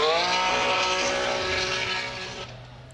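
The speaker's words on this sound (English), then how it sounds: "Very exotic exhaust note now, bringing into that final finish line" A Ferrari 599 GTB's twin-supercharged 12-cylinder engine at a qualifying session in St. Louis, 2018, gives a steady, high harmonic exhaust drone that slowly fades toward the finish with no voices.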